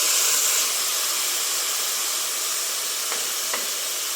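Garlic, ginger and green chili paste sautéing with onions in a pan for chicken biryani, a steady close sizzle and hiss with a couple of faint stirring clicks near the end.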